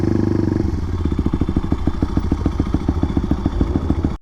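A 181cc Honda Monkey motorcycle riding along, its small engine producing a steady rapid mechanical chatter with regular pulsing beats, close and fairly loud throughout.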